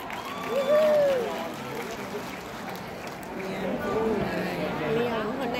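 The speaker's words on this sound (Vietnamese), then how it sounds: "Một tràng pháo tay để đón chào tiếng hát sẽ xuất hiện ngay trong giờ phút này" Audience applause welcoming a singer at a Lunar New Year concert at Beau Rivage, a steady wash of clapping from a large crowd with a voice sounding over it.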